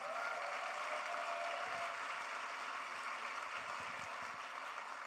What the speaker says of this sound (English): Can we just give a hand clap for them?